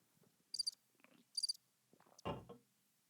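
Cricket chirps sounded as a comedic silence effect come in two short high-pitched bursts, followed by a louder swallowing or drinking noise near the end.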